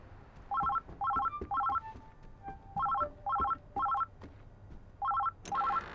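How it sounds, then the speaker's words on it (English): Telephone ringing in the game Oxenfree 2, a bright electronic trill repeating in regular double bursts, loud and clear, with faint beeps between rings. "No, the phone, the phone."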